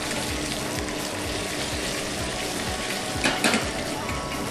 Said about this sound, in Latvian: Čurkst mūsu panna